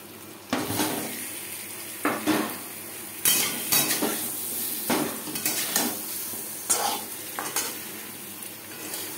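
Potato pieces go into hot oil in a kadai already used for browning mutton curry, bringing a steady sizzle broken by repeated scraping stirs and metal clinks of a spoon against the pan, close and fairly loud.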